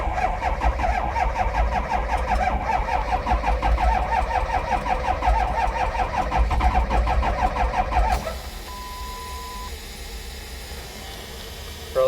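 A diesel bus engine cranks with a fast rhythmic churn for several seconds, then catches and settles into a lower steady idle nearby.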